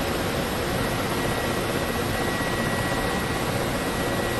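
Ka-50 Blackshark helicopter in the DCS combat flight simulator, rotors and turbines droning as it rolls along the ground; a loud, unbroken, even roar with no distinct beats.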